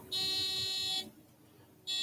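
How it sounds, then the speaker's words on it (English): Buzzer alarm on a touch-sensor flashlight gadget: a loud, shrill electronic tone sounds for about a second, stops, then starts again close by. "Higher or more pressure it puts on, the alarm will go off."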